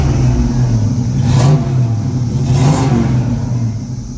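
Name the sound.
1967 Chevrolet Camaro engine revving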